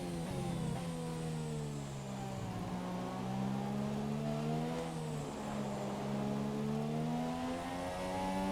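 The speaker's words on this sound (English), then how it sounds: "As you can see, going down this main straightaway, Bottas is still giving us a pretty hard" F1 race car engine in the video game F1 2017 accelerating down a straight, a continuous loud high-revving whine climbing through gears with brief dips at each upshift, steady and close.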